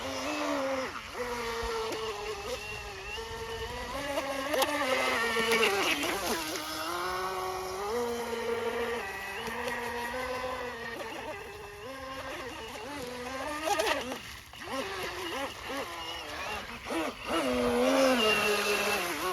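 A model boat motor buzzes and whines on the water, its pitch wavering up and down without climbing to a full-throttle scream, with brief dips and surges.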